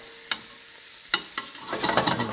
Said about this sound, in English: Saute those shallots, bring some sweetness out of them.